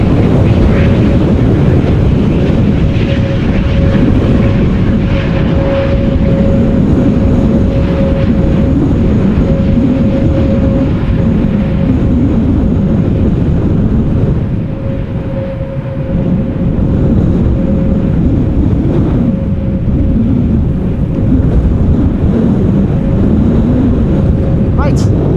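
Strong storm wind roars continuously at Amsterdam Schiphol Airport during crosswind landings, a dense, loud rush with a faint steady engine-like tone riding above it and a brief dip in the gusting midway.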